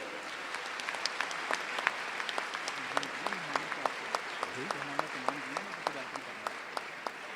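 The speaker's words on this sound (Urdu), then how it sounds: "آپ کی پرجوش تالیاں۔" Applause at a university convocation prize ceremony: a crowd claps steadily while a voice speaks over the middle stretch, with distinct individual claps popping through the even wash.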